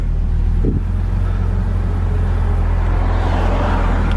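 A 2000 Honda Civic Si with a swapped B18C engine idles steadily and evenly at close range, cold and just started, with no talk over it.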